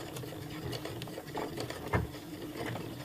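A sewing machine set to maximum stitch length sews a straight practice seam, a close, steady mechanical clatter of rapid needle strokes lasting throughout.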